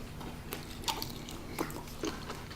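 Crunchy snack food being bitten and chewed up close, a few sharp crisp crunches at irregular intervals over a faint background, no talking.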